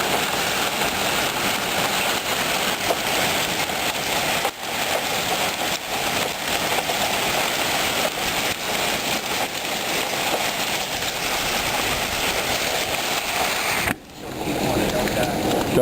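Hail and wind from a severe thunderstorm make a dense, continuous hiss and clatter that stays loud throughout, with brief dips.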